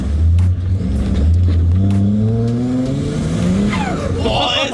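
A turbocharged 4.0L Intech engine in an AU drift car runs on boost and cuts out a little. The loud, close engine note climbs and wavers, and a brief higher squeal comes near the end.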